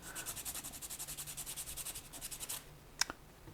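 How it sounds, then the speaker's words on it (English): Steady rhythmic rasping strokes of sandpaper smoothing high points on a model aircraft build part, quiet and close, followed by a couple of light taps. "you need to give this a good smooth sanding to eliminate any high points"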